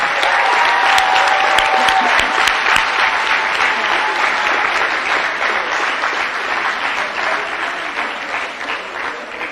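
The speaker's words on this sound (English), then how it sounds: "S'il vous plaît, veuillez applaudir nos finissants de la section française." Sustained applause from an audience honouring graduates of the French section at a 2021 secondary-school graduation ceremony, loud and steady for the whole stretch with a faint tone at the start and gradually tapering.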